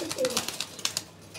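A pigeon at a pigeon farm in Bangladesh coos briefly at close range, soft and low, with a few faint rustles and background murmurs.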